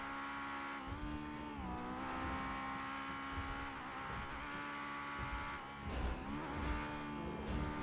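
A tuned car engine in GTA V revs continuously during a test drive, a loud steady drone that rises and falls in pitch as it accelerates and shifts, with occasional tire noise.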